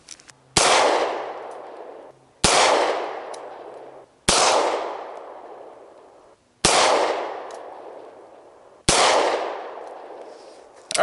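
An HK USP 40 pistol fires five loud single gunshots, each sharp crack followed by a long, decaying ring, spaced roughly two seconds apart.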